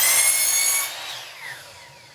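Air tool running off an air compressor in a workshop where wooden car ramps are being turned into a birdhouse, a loud high whirring burst that cuts off and trails into a fading hiss, with no talk.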